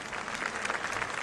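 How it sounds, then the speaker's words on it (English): A large outdoor crowd at Pope Francis' funeral Mass in Rome applauding: dense, continuous clapping from many hands, steady and fairly distant, with no single claps standing out. "the crowd applauded"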